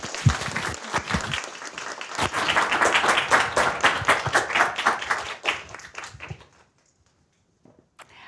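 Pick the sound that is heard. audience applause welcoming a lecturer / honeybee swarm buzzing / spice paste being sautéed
audience applause welcoming a lecturer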